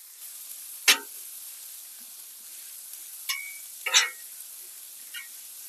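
Food sizzles softly on a Blackstone flat-top griddle set to medium-low heat outdoors, with a few brief crackling pops standing out from a quiet, steady hiss.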